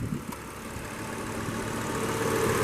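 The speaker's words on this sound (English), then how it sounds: "this is your classic Volvo 5-cylinder, so these engines just go forever" A 1998 Volvo V70 GLT five-cylinder engine idles with a steady, even low rumble, close by and continuous, with no voices.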